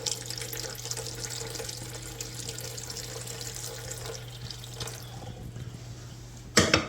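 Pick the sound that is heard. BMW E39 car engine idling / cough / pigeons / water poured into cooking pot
water poured into cooking pot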